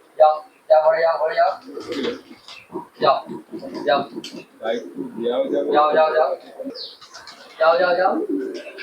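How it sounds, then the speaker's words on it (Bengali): Pigeons at a Kolkata loft cooing and lifting off as someone speaks and calls out to them throughout, the soft coos and wing sounds mostly under his voice. "রানা দা যেভাবে দোলে কবুতর গুলো অটোমেটিক উঠে পড়ছে"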